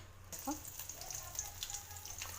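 Oil sizzles steadily in a pan for making avalakki (flattened rice), a close, continuous crackling fry that starts abruptly and holds at an even level.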